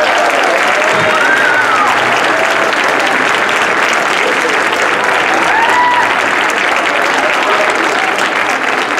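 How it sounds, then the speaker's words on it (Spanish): Sustained, loud applause fills a ceremony marking a 50th anniversary, with steady clapping from a large audience throughout and a few cheers rising above it. "Un fuerte aplauso para todos ellos"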